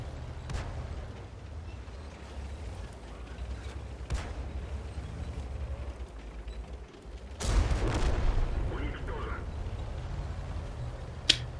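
Tank gunfire in a video game battle with a T-150 heavy tank: a steady low engine rumble runs throughout, broken by several sharp shots and a louder blast with rattling debris partway through.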